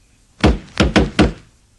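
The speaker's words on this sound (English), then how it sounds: "Suddenly, there was a knock on the door." Four firm wooden knocks on a door, a quick single rap followed by three more in uneven rhythm, close and clean with nothing else around them, as a sound effect in a storybook audiobook.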